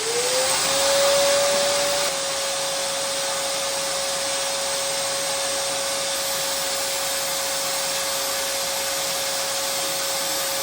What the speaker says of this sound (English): going ahead and flip the vacuum on